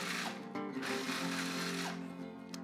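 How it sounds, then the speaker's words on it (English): A food processor blends toasted pecan nuts into a rough crumb, giving a steady, close, loud whirring drone that runs without pause, with no voices over it. "blend them in a food processor to a rough crumb"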